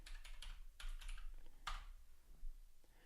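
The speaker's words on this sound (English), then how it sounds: "You then type in your password." Password typed on a computer keyboard, a quick run of close, crisp key clicks in short bursts with brief pauses, no talking.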